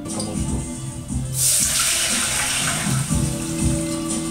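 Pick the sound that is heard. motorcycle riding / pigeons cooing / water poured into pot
water poured into pot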